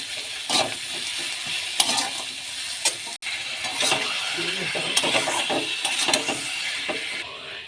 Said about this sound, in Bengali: মশলা সব দিয়ে ভালো করে এবার কষে নেবো এটা।